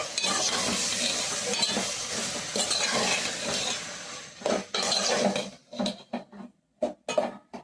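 Dry fish and brinjal curry stirred in a pan, a steady scraping and sizzling that turns into separate clinks and scrapes of the spoon against the metal toward the end, close and fairly loud, with no talk.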